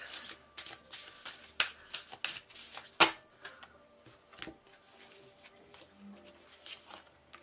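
Tarot cards being shuffled by hand during a reading, a close, steady run of papery riffles, slaps and rubs with sharp card snaps, no speech.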